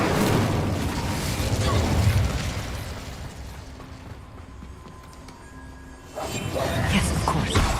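The Incendio fire spell being cast in Hogwarts Legacy: a loud whooshing fiery burst at the start that fades into a softer roar, then a second burst swells near the end, with game effects around it.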